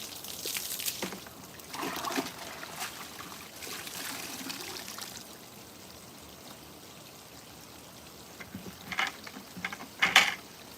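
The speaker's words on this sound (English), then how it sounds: "I make me some new soap water." Water is poured to make soap water for washing a car's front bumper, with trickling and splashing bursts that come and go, followed by a few sharper clinks near the end.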